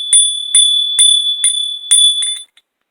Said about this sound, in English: Let me hit the bell.